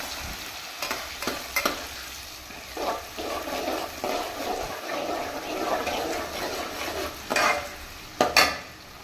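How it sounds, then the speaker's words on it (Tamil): Onions frying in oil in a pan for fish curry, a continuous soft sizzle with intermittent stirring scrapes and a few sharper clatters toward the end. "வெங்காயம் நல்லா வதங்கட்டும்"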